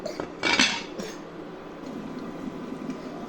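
A metal lid clanks onto a pot of mrigel fish curry with kohlrabi and potato. One sharp, close clatter is followed by a faint kitchen hum.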